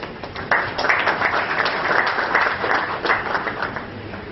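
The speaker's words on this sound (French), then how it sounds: "sous vos applaudissements, mesdames et messieurs, nous allons maintenant donc inviter le chairman de Mauritius Telecom, M. Ashraf Dalal." Applause from an audience, a steady wash of many hands clapping throughout, fairly loud and continuous.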